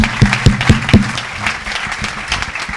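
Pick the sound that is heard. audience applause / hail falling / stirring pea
audience applause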